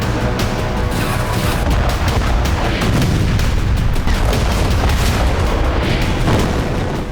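Fuel train hit by a drone strike at Salsk, Russia, during the Russia–Ukraine war: loud, continuous rumbling explosions and booms with repeated sharp blasts, dense and sustained throughout with no speech.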